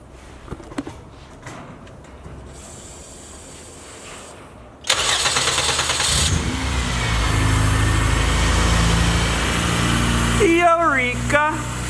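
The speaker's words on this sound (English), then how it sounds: "I'm gonna present to you the starting Civic" Honda Civic fitted with a K20 engine cranks and catches, then settles into a loud, steady idle with a slight fluctuation, after some quiet shuffling and brief talk.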